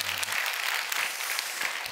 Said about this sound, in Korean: 크게 박수 한번 해주세요.